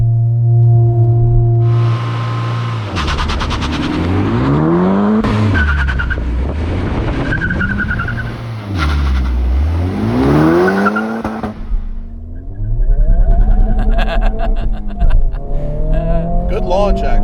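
A 2023 Honda Civic Type R in R mode launches hard: the engine revs loudly and rises through repeated gear pulls, with tire squeal and a chirp. Close and loud from inside the car, with people talking at times.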